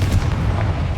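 A Confringo blasting curse explodes in the Hogwarts Legacy video game with a loud, deep, rumbling boom that fills the whole moment without a break.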